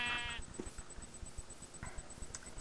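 Sheep bleating in Minecraft, a short wavering bleat at the start with a fainter second bleat near the end, over low background noise.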